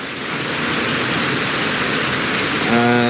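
Steady rain drums on a homestead roof, a dense, even hiss that holds throughout, with a brief tonal sound entering near the end.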